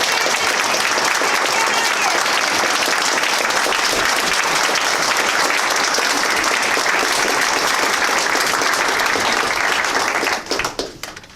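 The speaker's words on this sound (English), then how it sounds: "just another round of applause for the newest United States" At a naturalization ceremony at Otis Library, the audience gives the newest United States citizens a long, loud, unbroken round of applause that thins out and fades in the final second.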